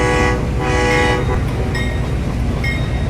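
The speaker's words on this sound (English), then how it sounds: "the train horn sound" A custom train horn in the Trainz 2022 railway simulator game sounds loud and close, two long chord-like blasts over steady rumbling rail and engine noise.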